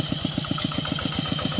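A walking tractor plough fitted with three discs runs its small engine up close, a rapid, even chugging pulse that repeats steadily.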